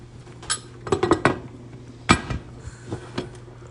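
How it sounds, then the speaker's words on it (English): Metal lid of a pressure canner set onto the pot during potato canning, a few close clanks and clinks in a cluster, then a sharper knock and lighter rattles, over a low steady hum of simmering water. "and we're going to put the lid on."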